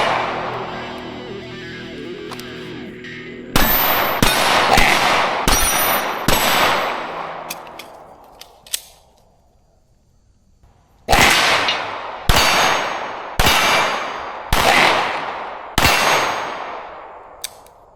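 A Staccato C2 pistol with a Monsoon Tactical Genghis compensator fires two fast strings of loud shots, each strike on steel targets ringing with a bright clang that decays, separated by a brief quiet pause.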